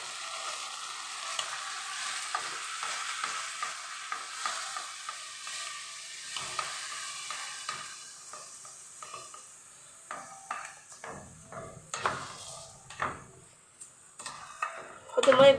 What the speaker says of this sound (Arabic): حط الميه بالتدريج وتقلبي لحد ما توصل